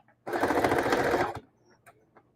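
A sewing machine stitches a cloth bag in one steady, close burst of rapid mechanical whirring for about a second, then stops, followed by a few faint clicks and handling noises.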